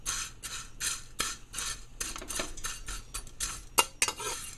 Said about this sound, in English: you have to keep turning it for it to keep on roasting